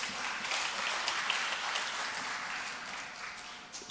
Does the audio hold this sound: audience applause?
yes